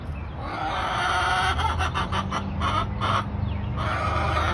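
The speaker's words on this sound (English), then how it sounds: "Can you hear the chickens?" Hens clucking and crowing at feeding time on a small farm, a busy, continuous flock chorus of overlapping clucks and calls, fairly close and steady throughout.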